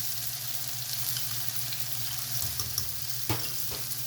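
Spiced laban frying with potatoes and eggs for a white qorma gives a steady, close oily sizzle, broken by a couple of brief stirring scrapes near the end.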